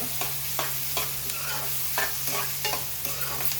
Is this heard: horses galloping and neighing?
no